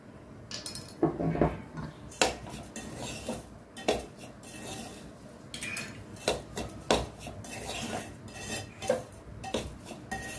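Semolina dry-roasts with salt in a pan over medium heat, stirred with a metal spoon that scrapes and clinks against the pan in uneven strokes, fairly quiet and close; no talking.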